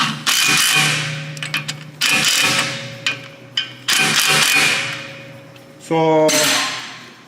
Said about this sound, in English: Hit with the impact gun.